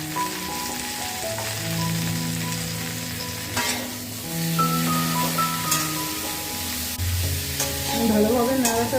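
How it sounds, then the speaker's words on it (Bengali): Beans and potato for sem aloo sabzi being stirred in a frying pan, a steady close sizzle with soft scraping stir strokes throughout, alone without talk. "ভালোভাবে নাড়াচাড়া করে নিয়েছি"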